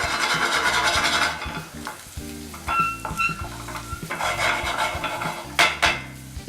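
Shallots frying in oil and butter in a hot pan, a steady loud sizzle with stirring scrapes and clinks of utensil against the pan throughout.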